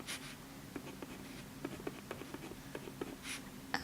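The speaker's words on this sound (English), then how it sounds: "trying to draw out a mind map on my right hand" Ink pen scratching out words of a mind map on paper, a series of short, quiet strokes and taps with brief pauses between them, close and faint over a soft room hum.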